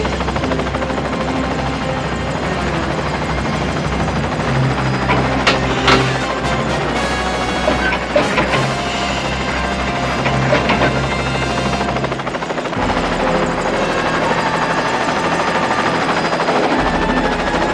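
A helicopter tries to yank a jammed dam spillway open with a cable in the disaster film Flood!, its rotor thumping loud and steady throughout, with a few sharp crashing impacts partway through.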